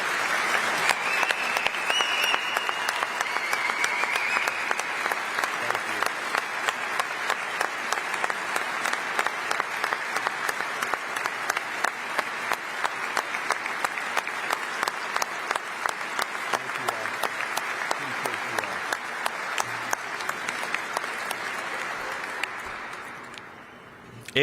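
A large indoor crowd at a City Hall gathering gives San Francisco police officers a long, sustained round of applause, steady and dense before tapering off near the end, with no talking.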